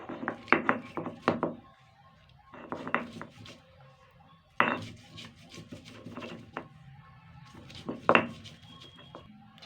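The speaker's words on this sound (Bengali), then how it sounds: "এবার আমি এই মটর ডালটা অল্প অল্প করে দেব আর বেটে নেব।" Soaked split peas are ground into a paste with a stone, giving rhythmic rasping, rubbing strokes in bursts, with short pauses between batches, close and fairly clear.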